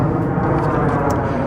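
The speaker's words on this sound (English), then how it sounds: "There's another airplane." A fixed-wing airplane passes overhead above a townhome community, a broad steady roar filling the air at close, loud level without change across the moment.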